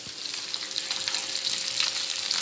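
Fish fries in a little oil in a pan, crackling and sizzling steadily with light spattering pops, close up.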